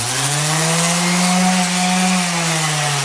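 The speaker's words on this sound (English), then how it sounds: "when you turn the sander on" Orbital sander running with a shop vac hooked up for dust collection, a loud, steady motor whine with a constant pitch held throughout, no talking.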